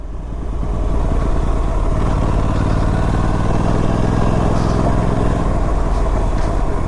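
A Royal Enfield RS 457 motorcycle rides over rough, slippery off-road track, its engine a loud, continuous close-up drone with steady throbbing and a faint clatter underneath, and no talking.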